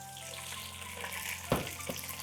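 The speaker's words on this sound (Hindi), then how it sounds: "हल्का सा पानी" Water poured into a pan while cooking tahiri, a hissing splash as the liquid hits the hot pan with garlic and cumin, loud at first and then settling into a steady sizzle.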